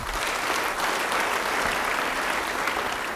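Steady applause from a church congregation during a sermon, sustained and even for a few seconds, fairly distant with no voices on top.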